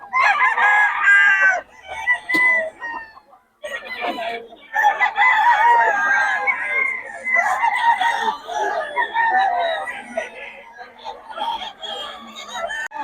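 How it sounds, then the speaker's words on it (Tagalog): Several roosters from a Pangasinan flock crow again and again, loud and close, with overlapping calls and some clucking between them. "Mga manok ni Boss Fly."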